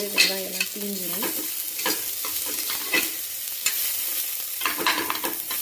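Onions frying on a low flame in a cooker for foxtail millet pongal, a soft sizzle broken by repeated scraping stirs of a spoon, close and intermittent, with no talk.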